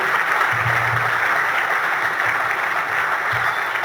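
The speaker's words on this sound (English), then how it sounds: "a round of applause for our nominees for Western Australia's Australian of the Year" An awards-ceremony audience applauds the Western Australian nominees for Australian of the Year, a broad, even wash of clapping that fills the hall steadily from start to finish, with only a low voice murmuring briefly beneath it.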